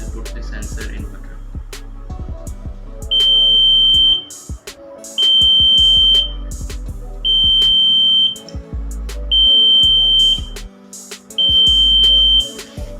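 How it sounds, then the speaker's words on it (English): An Arduino water sensor buzzer on a smart stick beeps on and off in a steady rhythm of roughly one-second tones separated by pauses, loud and close, with clicky handling noise between. "Now the water sensor is wet, and 1 second buzzer will on and 1 second will off."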